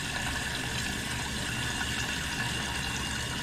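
An upstairs toilet tank refills through a newly replaced fill valve, a steady, close rushing hiss of water with air sputtering through the line, constant and unbroken throughout.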